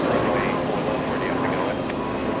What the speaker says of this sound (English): Flair Airlines 115 heading to Toronto, Canada. That's a max 8, giving us a right bank right after departure.